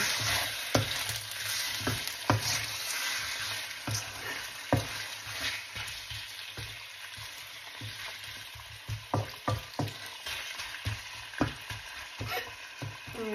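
Food with added water is stirred in a pan, a soft simmering sizzle broken by repeated sharp scrapes and taps of a utensil, irregular and close, with no speech.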